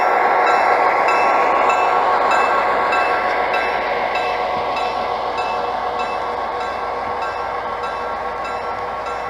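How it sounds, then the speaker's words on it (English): An Amtrak model train runs on a model railroad, giving a steady, close rolling hum and rattle that fades slightly over time, with no voices. "We back our train up to clear the crossover."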